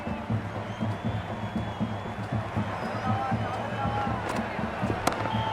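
Stadium crowd at an IPL T20 cricket match between Gujarat Titans and Sunrisers Hyderabad, a steady, fervent roar of cheering that holds across the whole stretch with speech running over it.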